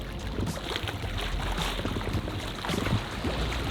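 An underwater jetpack running in shallow water, giving a steady churning, rushing hum of water and motor wash at moderate level with no talk.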